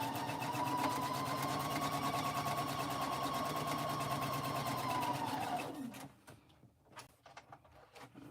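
Sewing machine doing free-motion meandering quilting on a pink baby quilt, a loud steady motor hum with rapid needle clatter for several seconds before it stops, leaving faint handling clicks.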